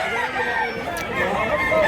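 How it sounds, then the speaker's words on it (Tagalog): A rooster at a chicken market in Mantalungon, Cebu lets out a wavering, close crow that rises and falls across a couple of seconds, with people talking nearby. "Wapo manok."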